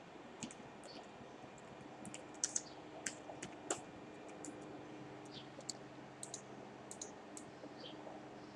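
Quiet, irregular clicks of fingers typing on a computer keyboard, with a few sharper keystrokes standing out from the soft patter.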